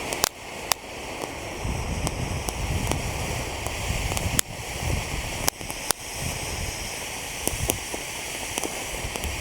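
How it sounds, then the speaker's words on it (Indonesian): A super jumbo firework fountain burns with a steady, roaring hiss and crackle, broken by a few sharp pops and snaps, close and loud for the whole stretch. "yang kita nyalakan di sini ada air mancur super jumbo. Kita lihat reaksinya. Sudah menyala."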